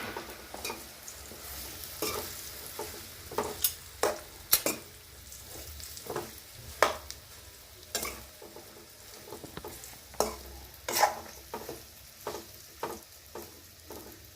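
Steamed bottle gourd muthiya dhokla pieces are stirred into a hot tempering of asafoetida and turmeric, with a steady sizzle and repeated sharp scraping strokes of the spoon against the pan, close up.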